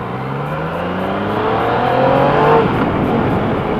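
A Yamaha XSR-900 motorcycle engine accelerates during a test ride, its close, loud tone climbing steadily in pitch over a few seconds under rushing wind, with no talking.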